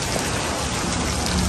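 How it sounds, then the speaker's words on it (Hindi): Heavy rain pours down in a steady, dense hiss that fills the whole stretch evenly and closely, with no voices and no breaks. "बारिश जनाब तड़ा तड़ा लगी हुई है।"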